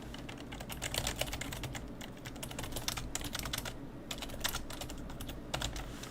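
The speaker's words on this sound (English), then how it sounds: "That's what it sounds like when I'm typing." Steady, continuous typing on a computer keyboard at close range, a dense run of rapid key clicks and taps with no talking.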